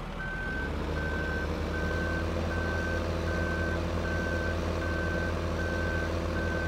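Evenly spaced electronic reversing beeps from an articulated farm vehicle in Farming Simulator 15, hauling silage, repeating about once every 0.7 seconds over a steady, loud engine drone.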